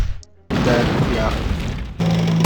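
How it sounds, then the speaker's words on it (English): Tank guns fire in the Eastern Front WWII strategy game Battle Academy 2, two loud booming blasts with a sustained rumbling roar between them, close and heavy. "Firing on the move at our stationary tanks."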